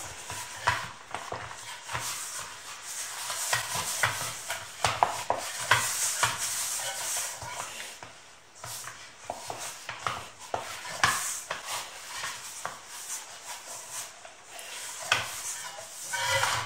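Dough for Moroccan hamburgers is gathered and pressed by hand, giving soft, irregular rubbing and squishing noises at close range with small slaps throughout, and no talk.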